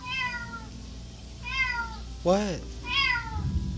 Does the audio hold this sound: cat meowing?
yes